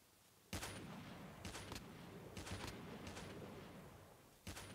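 Several sharp gunshot bursts from Call of Duty Mobile crack out over steady background noise, irregularly spaced with short volleys, fairly loud.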